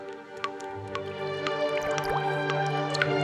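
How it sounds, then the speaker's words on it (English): Water drips from stalactites inside a limestone cave, a series of clear, separate plinks at irregular intervals ringing over a steady resonant drone in the echoing chamber. "It's a cave formed after thousands of years with grotesquely shaped rocks and water trickling down along the stalactites from above."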